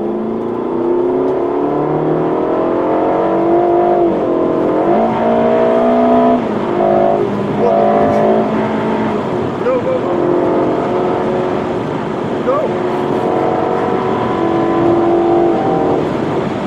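A Ferrari California T rated at 560 cv accelerates hard at full throttle. Its engine tone climbs steadily and drops back with each shift, loud and close throughout, with a voice briefly audible.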